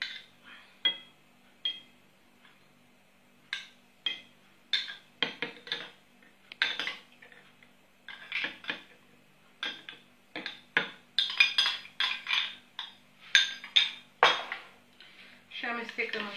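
A spoon stirring ground almonds into 400 grams of hot milk in a bowl, giving irregular clinks and scrapes against the dish, sparse at first and then busier, close and clear with no talk.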